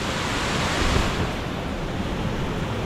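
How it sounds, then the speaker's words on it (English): Rushing water of Raymondskill Falls roars loud and continuous, a dense broadband wash that swells slightly near the start and then holds steady, close by, with no voices. "It's noisy here with the water."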